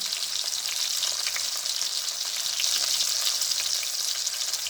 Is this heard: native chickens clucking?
no